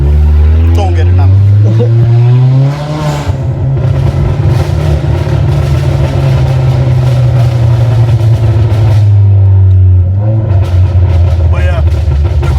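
A 10th-generation Honda Accord 1.5T fitted with a Function Werk front pipe rumbles loudly through its exhaust, the drone climbing, holding, then easing off with a dip near the end, and a voice speaks over the engine.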